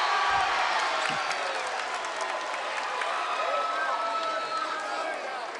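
Student-section crowd cheering at a college basketball game between Morehead State and SIU-Edwardsville, a broad, sustained roar with scattered whoops filling the arena, while a commentator talks over it.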